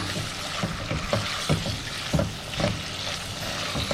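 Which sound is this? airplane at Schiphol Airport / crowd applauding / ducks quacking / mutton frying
mutton frying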